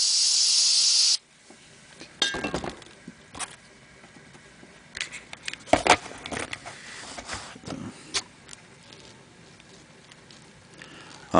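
Spray paint hisses in short bursts while a camouflage paint job is applied, the sprays starting and stopping irregularly at close range after a loud opening burst.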